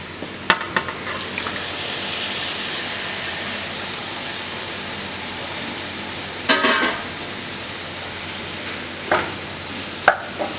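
Tomatoes hit a hot pan of spicy beef curry and fry with a steady, close broadband sizzle, broken by a few sharp clatters of stirring near the middle and end.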